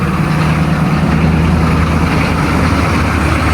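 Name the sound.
cold start of a 1985 GMC diesel truck engine idling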